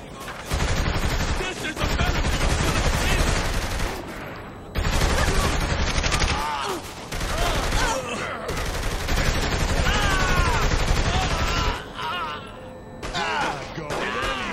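Dense automatic gunfire from guards being shot in the video game Saints Row: The Third comes in loud, sustained bursts. Brief pauses separate the bursts, with game sounds mixed in.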